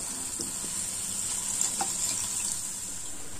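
Peanut khasta kachori being lifted out of hot frying oil, a steady close sizzle with a few soft clinks and scrapes of the utensil, no voices.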